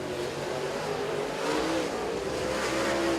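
Race cars roar around a dirt oval during a heat race at Oakshade, a steady loud engine drone with rising revs as the pack circles, no voices.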